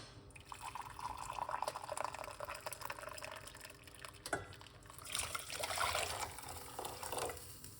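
Water pours and trickles into a container, a steady liquid stream with a brief clink midway and a fuller gush toward the end, fairly quiet.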